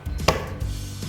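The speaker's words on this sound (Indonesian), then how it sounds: "Coba kalau tangan Ibu pukulkan ke meja." A hand strikes a wooden table, giving one dull, close thump followed by a couple of softer knocks.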